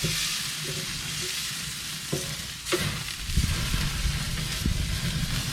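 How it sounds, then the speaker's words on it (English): A sous vide New York strip steak searing fat-side down on a Big Green Egg grill gives a steady, close, loud sizzle with a few small pops, no talking. "some sear on the side, render that fat a little bit."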